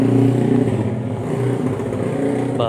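A motorcycle engine in Klang rumbles loudly and steadily for the whole stretch as the bike passes close by, with no talking over it.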